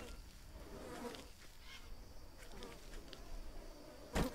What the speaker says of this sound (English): that buzzing sounds really annoying